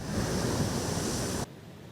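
Strong storm-driven sea waves, a dense, roaring wash of surf noise that fills the moment evenly and then cuts off abruptly to a faint background.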